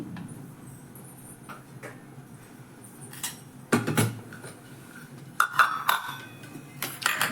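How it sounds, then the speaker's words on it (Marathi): A small ladle clinks against a kadhai on the gas stove as oil is poured in for tempering an eggplant and potato curry; a few sharp metallic clinks come in bursts over a quiet kitchen background. "हे जी छोटी पळी आहे त्या पळीने मी इथं तेल टाकत आहे"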